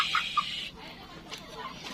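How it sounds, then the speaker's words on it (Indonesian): A chicken gives a couple of quick, soft clucks close by, followed by a quieter cluck a moment later, against a faint background. "Ayam."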